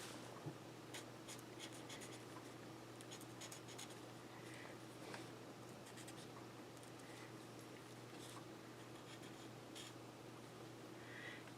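Alcohol markers shading and blending on card paper, a steady soft scratchy rubbing with quick short strokes, close and quiet throughout with no talk.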